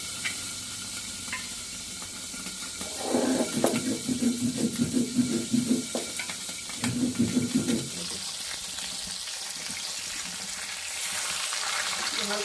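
Live tilapia fish frying in hot oil gives a steady crackling sizzle that swells into bubbling spurts, with a soft stir, then settles back to a quieter hiss.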